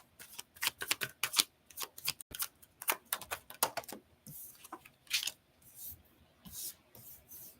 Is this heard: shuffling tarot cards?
yes